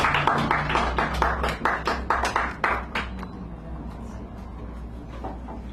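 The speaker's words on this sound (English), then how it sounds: "Give her a nice round of applause here." A small audience claps at a poetry reading in Sacred Grounds Cafe, San Francisco: a few seconds of close, uneven hand claps that thin out and fade into quiet room tone.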